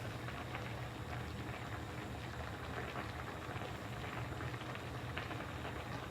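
Bucatini pasta boils in a Saladmaster pot, giving a steady, close bubbling hiss with a low rumble underneath that runs unbroken and evenly loud.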